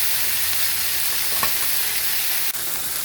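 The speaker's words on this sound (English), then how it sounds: "I'm just going to turn it over and finish that 3rd side and sear it" Whole beef tenderloin searing in a hot pan, giving a steady, close broadband sizzle throughout with a couple of faint clicks, and no talking.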